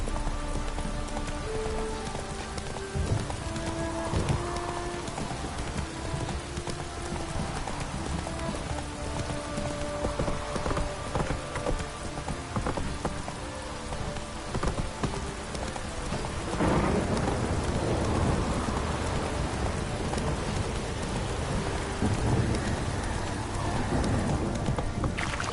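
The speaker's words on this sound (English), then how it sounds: "This downpour's a bastard, it is." Heavy rain pours steadily in The Witcher 3 with rolling thunder rumbling beneath it, while game music and faint hoofbeats sit under the constant downpour.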